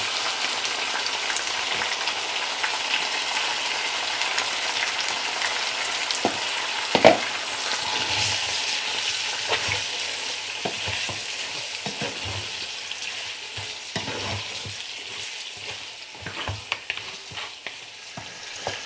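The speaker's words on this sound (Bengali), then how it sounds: "পেঁয়াজের সাথে মাংসটাকে হচ্ছে ভালো করে একটু সময় ভেজে নিতে হবে" Mutton pieces frying with onions and ginger-garlic paste in a pot for lamb biryani, a steady broad sizzle with scraping stir strokes throughout and a sharp clatter near the middle.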